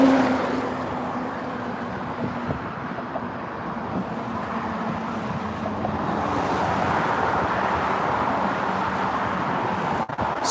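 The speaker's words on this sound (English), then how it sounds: "explains all the traffic noise you hear" Continuous roar of heavy traffic on a six-lane highway in Stuart, Florida, a dense wash of passing cars that swells slightly louder midway, steady and moderately near.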